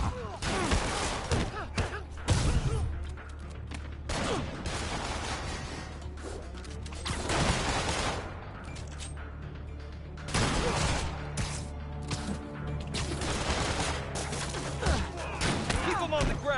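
Gunfire from enemy henchmen in a Spider-Man video game, sounding as dense, loud bursts of shots and crashing impacts over a continuous roar of game action, with character voices talking throughout.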